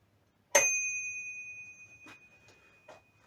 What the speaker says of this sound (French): Une sonnette